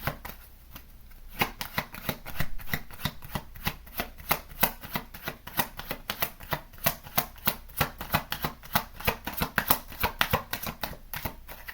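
Rapid riffling and snapping of a deck of cards being shuffled, a quick run of crisp clicks repeated in close bursts, heard up close.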